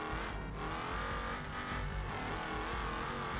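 An Autobello Minilena in the BeamNG.Drive video game, fitted with a 4-speed race setup, revs hard and accelerates in one continuous loud engine drone with tire squeal mixed in and no pauses.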